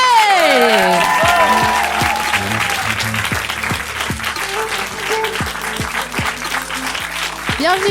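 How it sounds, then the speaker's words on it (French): Studio audience applauding to welcome guest Vincent Delerm, a steady close clapping wash that thins over time, with a presenter's voice talking over the opening seconds. "il est temps de faire un tonnerre d'applaudissements à notre premier invité, Vincent Delerme"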